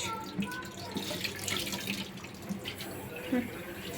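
Kitchen tap water runs steadily into a sink as children wash dishes, a continuous splashing flow with small drips, while a woman and young girls talk over it nearby.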